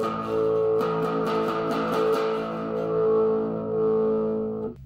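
Electric guitar from a full-size 39-inch beginner starter kit, played through its small amplifier on the gain channel; loud, sustained distorted chords ring out alone with a wavering, buzzing tone.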